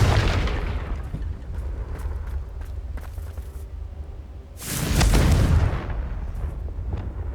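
Confringo blast spell explosion in Hogwarts Legacy on PS5: a deep rumbling boom swells near the end over a steady low roar, with an earlier fainter blast at the start and no talking.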